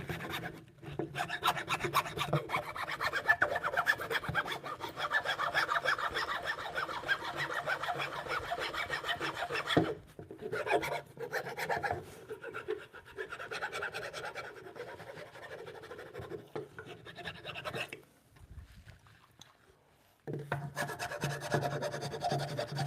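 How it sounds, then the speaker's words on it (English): A hand file rasps steadily at a through mortise in wood, repeated close scraping strokes with brief pauses, quiet and alone. "I'm going to file this out a little bit"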